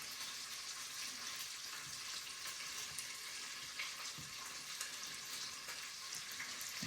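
Bacon crisping in a pan, a faint, steady broadband sizzle with a few tiny pops, heard alone without talk.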